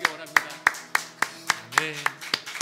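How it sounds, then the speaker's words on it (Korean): A congregation claps in praise at a Korean church morning worship service, about ten sharp, steady claps in a fairly slow rhythm, close and clear, with sustained musical tones underneath. "주님께만 감사와 찬양의 박수 드리기 원합니다."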